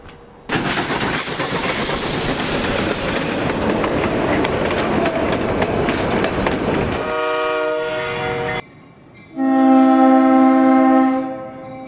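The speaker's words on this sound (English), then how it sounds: "fall foliage trains have returned to North America" A passenger train on a fall foliage excursion in North America rumbles past with steady clattering wheels, then a loud multi-tone horn blasts close by after a brief lull.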